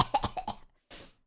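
A single short, breathy cough close to the microphone, following a brief burst of vocal sounds.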